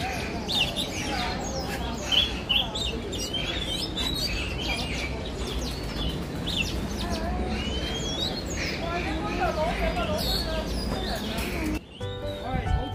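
Pet talking birds chirp and call busily over a steady background hum, with bright tweets and warbling phrases scattered throughout and people talking quietly now and then.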